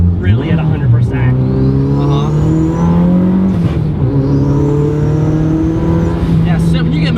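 A boosted 300 hp Mazda Miata engine pulls hard, its loud, rising engine note dipping at a gear change midway and then climbing again, with someone talking over it.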